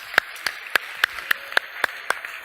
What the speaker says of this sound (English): Give me a round of applause with Daniel.